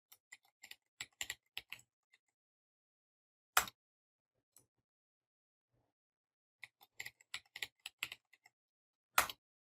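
A password is typed on a computer keyboard in quiet clicks, with one burst of keystrokes, a lone key tap, a pause, then another quick run of taps ending in a firmer keypress.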